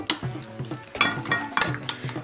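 Soy sauce paste mixed with oil for grilled fish, stirred briskly in a bowl, making repeated wet scraping and clicking strokes at a quick irregular rhythm, close and fairly quiet.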